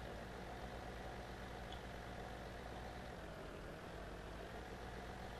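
Tractor engine idling steadily in Farming Simulator 2017, a continuous low rumble holding at an even level throughout, with no talk over it.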